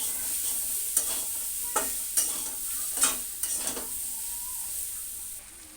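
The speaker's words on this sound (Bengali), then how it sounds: "এবার ভালো করে নাড়িয়ে ছাড়িয়ে নেই" Yogurt chicken with turmeric and salt stirred in a hot pan, a low steady sizzle broken by several distinct scraping strokes of the spoon against the pan, close and clear with no talking.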